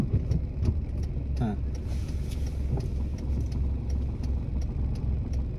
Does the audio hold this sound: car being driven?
yes